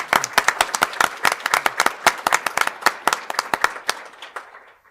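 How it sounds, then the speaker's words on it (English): Students are applauded at a school district board of education meeting: a small group of people claps with distinct, close individual claps that thin out and fade over about five seconds. "Let's give them another round of applause."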